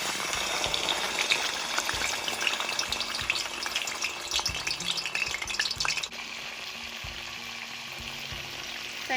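Pork leg deep-fries in hot oil in a pan on an outdoor barbecue grill, a busy crackling sizzle with popping bubbles and occasional knocks, loud at first and settling slightly quieter after a few seconds, with no talking.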